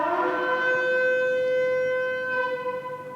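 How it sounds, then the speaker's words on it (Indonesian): A shofar blown at a high pitch sounds one sustained, bright, brassy note that holds steady for about three seconds, close and loud, with nothing else heard. "ini suara sangkakala pada nada yang tinggi"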